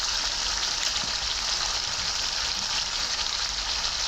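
Beef sizzles and fries with green chilies and cooked-down spices in a pan for a dry bhuna, a steady close crackling hiss with no talk.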